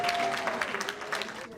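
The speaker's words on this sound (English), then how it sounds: "Let's give the Ramdas teaching crew a round of applause for helping me." A yoga gathering's audience claps for the Ramdas teaching crew, a short, warm burst of many hands with faint voices mixed in.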